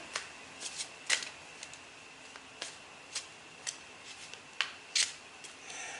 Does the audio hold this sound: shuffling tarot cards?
yes